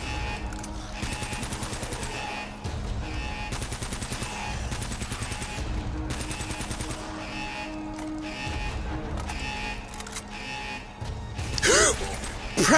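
Bursts of video game gunfire from Uncharted: Drake's Fortune rattle in repeated volleys, dense and fairly loud, with brief gaps between them and a few sharper crashes near the end.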